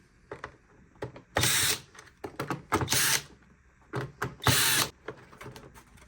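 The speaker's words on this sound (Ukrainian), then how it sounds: "І викручуємо гвинти, які тримають нижню кришку." Screws are backed out of the bottom cover of a Dreame robot vacuum, giving quiet clicks and several short whirring bursts from a screwdriver, close up and alone.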